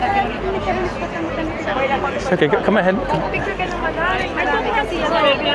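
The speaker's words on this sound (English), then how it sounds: "I'm absolutely stuffed in this gigantic crowd of people." A dense crowd packed together at the front of a horse guard, continuous overlapping chatter and babble all around, with a nearby voice speaking briefly above the hubbub.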